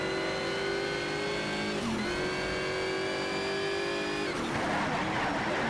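A race car engine from Need for Speed Shift 2: Unleashed revs hard and steadily at close range, its pitch climbing between two quick gear-shift dips.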